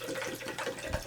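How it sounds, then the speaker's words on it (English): Water is poured to top up a homemade drink, a brief steady rushing splash at moderate loudness with no voices. "And then I'm going to fill the rest up with water."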